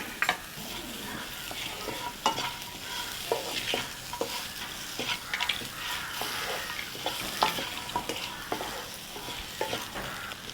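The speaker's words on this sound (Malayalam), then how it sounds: "ഇത്രയും ചേർത്ത് ഇളക്കാം." A spoon scrapes and stirs through spiced Kerala tapioca curry with salt and pepper powder in a hot pan. Steady soft sizzling runs underneath the repeated stirring strokes.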